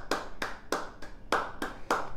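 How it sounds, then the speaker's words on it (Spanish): A group applauds after an exercise set in a glute, abs and legs workout class, with about seven crisp, evenly spaced claps in quick rhythm, close and clear with no voices. "un aplauso para todos y cada uno de ustedes."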